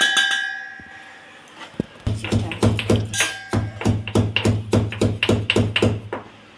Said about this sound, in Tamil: இதையும் லைட்டாக இடிச்சிட்டா போதும்.